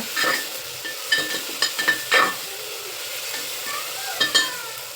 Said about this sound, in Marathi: आल्या आणि लसणाची पेस्ट पण टाकून घ्यायची त्याच्यात ती पण चांगली परतून घ्यायची